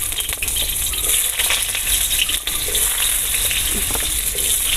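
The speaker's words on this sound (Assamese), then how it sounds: "কাটা আলু মই এতিয়া এইখিনি ইয়াত ধুনীয়াকৈ তেলত ভাজি ল'ম।" Steady hissing sizzle of cut potatoes frying in hot oil, continuous and close, with no talking.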